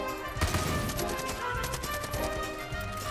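Video game gunfire, a steady run of rapid shots and bursts heard loud and continuous over a busy game soundscape.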